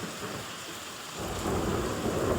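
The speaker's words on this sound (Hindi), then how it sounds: "फुल गरजत भैया" A thunderstorm with heavy rain: steady, close rain hiss, with deep thunder swelling and growing louder about halfway through, and no voices.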